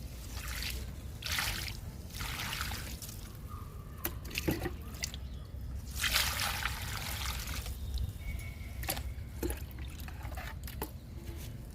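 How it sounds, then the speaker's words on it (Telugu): Water is poured onto a freshly repotted pandanus plant in soil, heard as several separate bursts of splashing and trickling with short pauses between them, close and moderately quiet. "ఇప్పుడు వాటర్ ఇస్తున్నా."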